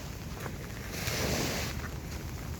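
A small boat out on the water, faint under a wash of wind and lapping waves, with a brief swell of rushing water in the middle.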